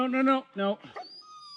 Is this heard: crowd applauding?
no